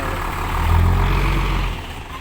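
A heavy diesel tractor engine runs steadily nearby, a deep low rumble that swells slightly in the middle before easing back, with no voices.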